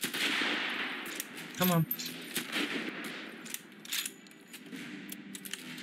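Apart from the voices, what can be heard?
rifle gunfire in a video game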